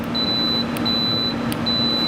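A digital multimeter gives a steady, high continuity tone that pulses on and off three times, close and clear over a faint room hum.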